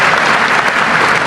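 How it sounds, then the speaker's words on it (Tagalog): Audience applause during a political speech in the Philippines, a brief burst of dense, steady clapping filling the room, loud and close. "ba't kayo pumalakpak?"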